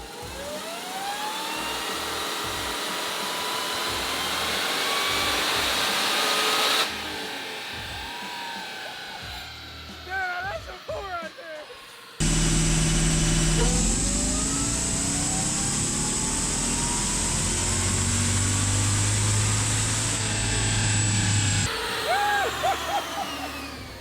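Hellcat-engined Miata roaring on a dyno with its tires spinning, a loud sustained engine howl that rises in pitch, drops away, then surges again even louder, with faint voices in between.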